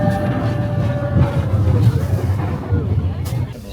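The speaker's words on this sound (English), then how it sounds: "The train is in motion." The Big Thunder Mountain train ride at Disneyland rolls along with a steady, low rumble and rattle, heard beneath constant crowd chatter and nearby voices.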